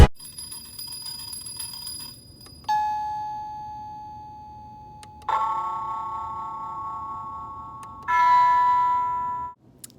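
Three separate electronic doorbell chime tones ring out one after another in a classroom, each sustained and slowly fading, with short gaps between them.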